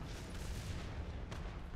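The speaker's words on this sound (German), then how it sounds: "Das war Artillerie." Artillery shells explode during a War Thunder tank match, heard as a continuous low, roaring rumble of blasts with a sharper crack near the end.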